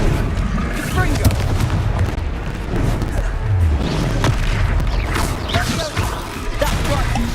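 A Confringo spell blast in a video game, a loud booming explosive burst within continuous dense battle noise of bangs and crashes, with voices shouting over it.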